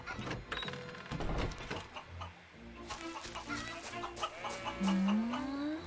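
Hens cluck in the video game Baldo: The Guardian Owls, a string of short clucks and squawks over light game music and ambient effects, moderately loud and without speech.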